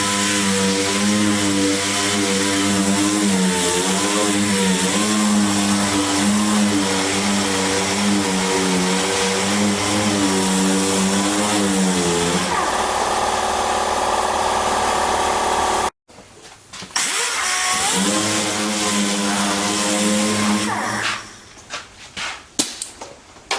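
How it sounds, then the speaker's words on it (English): A power sander strips paint and primer down to bare metal with a loud, steady motor whine that cuts out briefly, resumes, then falls into short, uneven bursts near the end. "I'm going to start sanding it"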